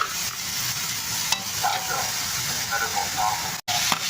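Chicken fries in a pan with a loud, continuous sizzle, stirred now and then, and a brief dropout near the end; a voice speaks faintly underneath.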